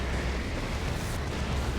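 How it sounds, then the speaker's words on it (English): A nuke detonates on a las cannon in a Dawn of War 2: Retribution 2v2 match, a loud sustained rumbling blast filling the whole stretch with broad, heavy noise. "Uses his nuke on the las cannon."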